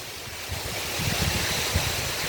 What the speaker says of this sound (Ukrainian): Прогулялися біля річки, послухали хвилі